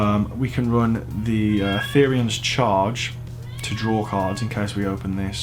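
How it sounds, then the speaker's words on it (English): A house cat meows repeatedly in the background, with several drawn-out, wailing cries rising and falling while someone talks steadily over them. "Apologies if you can hear the cat in the background, they're having a mare."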